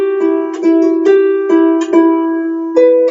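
A harp plays a short passage of plucked notes, sounding as a steady series of clear, ringing tones with sustained resonance, close and alone.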